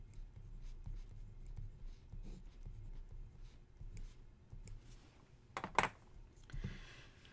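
A calculus derivative is written out by hand: quiet, close scratching of pen strokes on paper in short irregular bursts, with one sharper, louder scrape toward the end.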